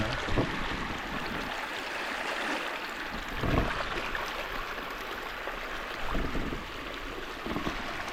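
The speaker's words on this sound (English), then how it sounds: "I'm also distracted by the sounds of the river." River water rushes and gurgles steadily near a village in Africa, a continuous broadband flow with occasional low thumps and swells, moderately quiet and without talk.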